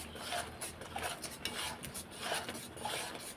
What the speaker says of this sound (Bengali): দিয়ে এখন কষিয়ে নেব ভালো করে।